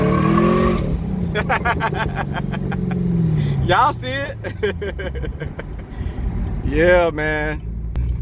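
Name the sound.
turbocharged Chevy S10 engine revving with exhaust pops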